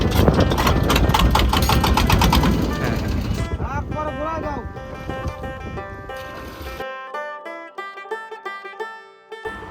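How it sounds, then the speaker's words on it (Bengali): A fishing boat's engine on the rough Padma river runs with a loud, dense rumble at the start, then drops back beneath a tonal, music-like layer. "নৌকা স্টার্ট হলো এবার আমরা মাছ নদীতে যাওয়া শুরু করলাম"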